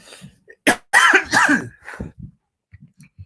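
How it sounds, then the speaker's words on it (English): A man coughs harshly right after taking a bong hit, a cluster of rough, close coughs followed by a few softer throat-clearing sounds, with no talking. "has a wicked cough because he just hit the bong"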